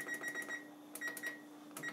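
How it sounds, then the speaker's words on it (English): A kitchen timer being set while cooking broccoli, giving short repeated electronic beeps in quick clusters with pauses between, close and clear over a faint hum. "I'm going to set our timer."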